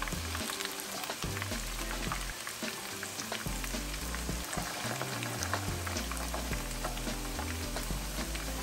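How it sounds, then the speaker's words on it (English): Onions fry in hot oil as the base for a tomato stew, a dense continuous crackling sizzle with occasional stirring scrapes, close and steady throughout with no voices. "I'm adding these onions to give flavor to the oil and to create a good base for my stew."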